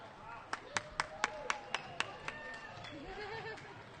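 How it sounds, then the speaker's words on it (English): A crowd claps and cheers as a volleyball team is introduced at a match, about nine sharp claps in a steady rhythm with chatter beneath, giving way to a general crowd murmur. "Give them a round of applause."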